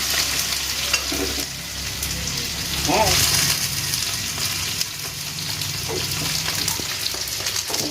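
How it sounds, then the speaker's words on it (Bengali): Okra fries with turmeric and salt in a pan, a dense steady sizzle with occasional stirring scrapes, and a brief faint voice in the background. "তো দিয়ে আবারও একটু ভাজা ভাজা করে নেবে নাড়াচাড়া করে"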